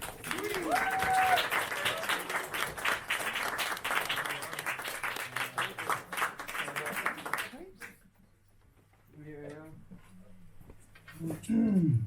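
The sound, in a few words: audience applause for a performer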